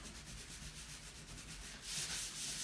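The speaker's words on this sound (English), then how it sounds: "You're not trying to sand off any finish or anything like that." Wood furniture is hand sanded before painting, a close, steady rasping rub in quick back-and-forth strokes that grows louder and coarser near the end, with no voices.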